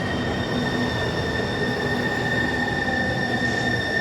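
A train rolls steadily along rails with a continuous rumble and high sustained wheel squeal, loud and close the whole time.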